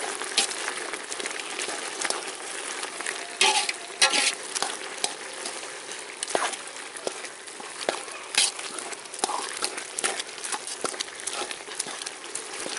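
A ladle mashes cooked amaranth stem greens in a pan for a lentil masiyal, giving irregular wet scraping and squishing knocks over a soft bubbling simmer.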